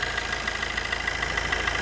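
A 2012 Maruti Suzuki Swift VDi diesel car engine idles steadily up close, a constant low rumble with a faint rhythmic ticking running through it.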